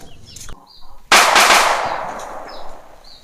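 A firecracker bursts loudly and close by with a sharp crackling blast that decays over about two seconds, following a moment of quieter background sounds.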